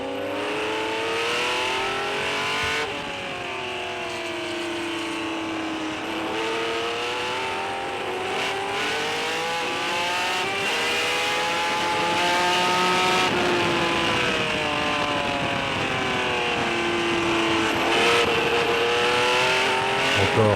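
A Ferrari 712 race car at full speed at the Spa-Classic 2011 historic race at Spa, its engine wailing loudly and continuously as the pitch repeatedly climbs and drops through gear changes, with no voices.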